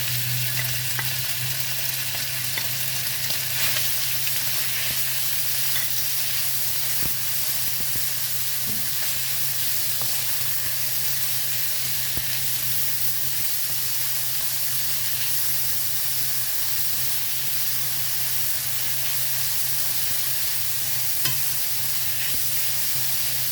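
Meat and garlic frying in a pan for mushroom bihon, a steady broadband sizzle with occasional stirring clicks, continuous and fairly close, with no talking.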